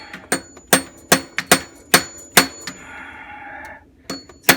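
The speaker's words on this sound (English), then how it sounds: "I'm using a 1/8 inch punch." A 1/8 inch punch is struck repeatedly to tap out a cancellation pin while a Wurlitzer Americana 3700 jukebox is being dismantled, giving sharp, close metallic taps in a quick irregular series, with a brief scraping rattle midway.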